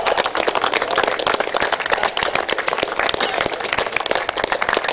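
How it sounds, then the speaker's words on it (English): Sustained applause from an audience at a cultural function in India as dignitaries walk the aisle, dense and continuous clapping filling the whole stretch with some crowd noise mixed in. "Big round of applause."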